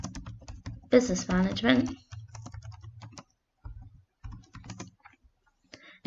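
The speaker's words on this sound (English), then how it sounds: "So you would just go to a new Google tab, type in Advanced Higher" Fingers type on a computer keyboard to enter a Google search, quick clicks under a woman's steady speech and then continuing in short bursts during pauses in the talk.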